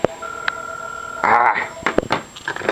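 A replica-style rotary telephone is used to place a call, producing short dialing tones and a steady tone from the handset, with a brief burst of voice in between.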